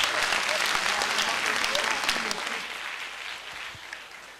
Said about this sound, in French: on va applaudir pour toutes ces personnes-là